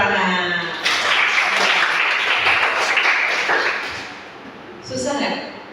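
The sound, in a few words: class applauding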